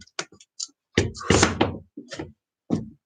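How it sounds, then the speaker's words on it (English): A pull-up bar hooked onto a door frame knocks and thunks against the wood in a few sharp, close impacts, with a short run of rattling contact in the middle. "this is a bar that hooks onto any door frame in your house"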